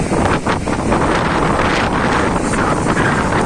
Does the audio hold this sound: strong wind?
yes